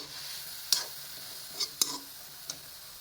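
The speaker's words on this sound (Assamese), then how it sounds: "ইয়াতে শাকখিনি দি দিম অকণমান লৰাই দিব লাগিব" Leafy greens stirred in a hot pan: a handful of sharp scraping strokes at an uneven rhythm over a faint, steady sizzle, close by, with no talking.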